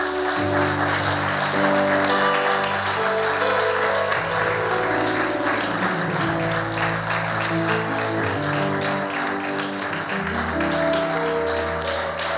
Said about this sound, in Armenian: Աստծուն բարձր ծափահարություն